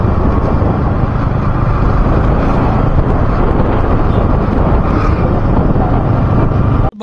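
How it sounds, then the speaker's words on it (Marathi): Heavy, constant wind buffeting over a boat approaching across the sea at Russian beach in Goa, the roar loud and near throughout before cutting off at the end. "ही जी बोट आहे ती तर येणार आमच्यापर्यंत येणार"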